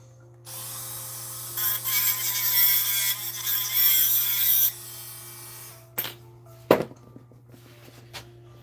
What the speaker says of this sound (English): We can hit the rest of this with the little grinder.